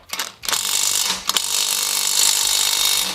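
An ASSUR power nut runner keeps spinning, making a loud, continuous mechanical whir with ratcheting texture, broken near the start by a few sharp knocks and a brief jolt before it runs on steadily.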